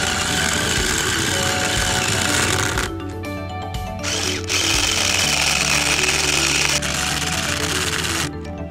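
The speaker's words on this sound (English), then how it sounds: "And drill it in." A power drill whirs loudly and steadily, with brief pauses and changes in pitch as screws are driven in close by while assembling a beehive.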